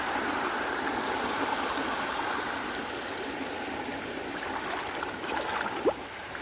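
A rising river flows steadily in a broad, continuous rushing wash of water, loud and unbroken, with a faint bump near the end and no speech.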